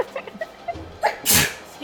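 One sharp, explosive human sneeze comes near the end, close and loud, after a few faint soft sounds.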